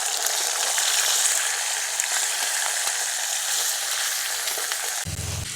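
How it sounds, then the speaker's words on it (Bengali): Chicken pieces coated in salt, turmeric and ground pepper fry in a pan, making a loud, dense, continuous sizzle close up. The hiss crackles steadily and then shifts abruptly near the end, as if the pan were moved or stirred. "এরপর নুন, হলুদ আর গোলমরিচ গুঁড়ো দিয়ে মাখিয়ে রাখা চিকেনগুলো একটু ভেজে নেব।"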